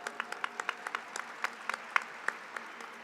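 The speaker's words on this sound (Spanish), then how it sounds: "les pido por favor un aplauso a este panel" Sparse, scattered clapping from a small audience at a cultural heritage panel discussion, individual claps clearly separated and fairly quiet, ringing slightly in the room.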